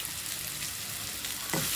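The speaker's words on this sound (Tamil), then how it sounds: "இஞ்சி பூண்டு பேஸ்ட் லைட்டாக வாசனை வர வரைக்கும் வதக்கணும்." Ginger garlic paste sautés with softened onions in a pan for kara chutney, giving a steady, close sizzle and hiss with a louder burst of frying near the end and no talking.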